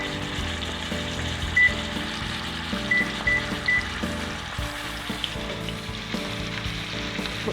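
Spicy pork chops sizzle loudly and continuously in a hot pan, with small soft knocks as the chops are flipped over.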